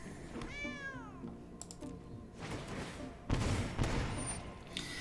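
A single drawn-out meow with a falling pitch opens the scene in a digital card game. Clicky tapping and a couple of sharp bursts of game effects follow.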